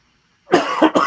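After a moment of silence, a person coughs three times in quick succession, loud and close.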